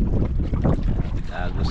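A fishing boat's engine rumbles steadily at sea under gusting wind, with a brief snatch of voices partway through.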